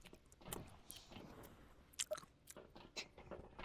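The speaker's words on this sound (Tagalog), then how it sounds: "ngumunguya ko. Parinig nga ng nguya." A person chews food close to the mic, with soft, irregular crunching and biting sounds that are fairly faint, plus a few small clicks.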